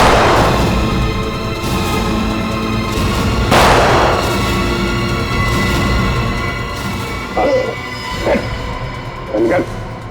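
Two loud, booming gunshots a few seconds apart over a noisy background, followed by a few short, sharp yelps.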